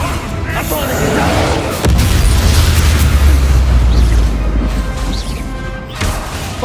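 Bombarda spell blast in the wizarding game Hogwarts Legacy: a loud, deep booming explosion with a crashing burst that rumbles for a few seconds, then trails off into lighter game effects.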